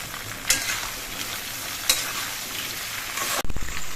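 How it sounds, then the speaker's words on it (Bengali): Ridge gourd pieces stirred into hot oil in a pan, a continuous moderate sizzle punctuated by two sharp spatula knocks and a final clatter near the end. "এবার নেড়ে চেড়ে দিয়ে তেলের সঙ্গে ঝিঙেগুলো মিশিয়ে নিতে হবে।"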